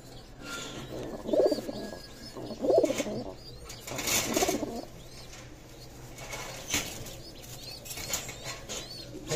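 A pet pigeon coos in a loft, a hen that has just laid eggs, with soft repeated coos, a few bursts of wing flapping and quieter background chatter from other birds.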